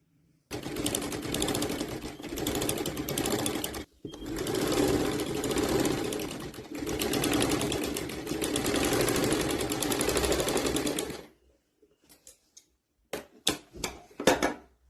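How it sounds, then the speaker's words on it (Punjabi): A simple domestic sewing machine stitches round peach-colored thread designs onto suit fabric, running in long steady whirring bursts with brief pauses, then a few short stitches near the end, close and loud with no talk. "ਹੁਣ ਆਪਾਂ ਇੱਥੇ ਵੀ ਪੀਚ ਕਲਰ ਦੇ ਸੇਮ ਰਾਉਂਡ ਸ਼ੇਪ ਦੇ ਵਿੱਚ ਆਪਾਂ ਮਸ਼ੀਨ ਚਲਾਵਾਂਗੇ"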